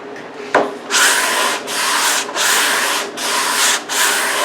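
A wooden kitchen table is sanded smooth by hand during refinishing, with a knock and then four rhythmic, close, gritty rubbing strokes, each stroke separated by a short pause.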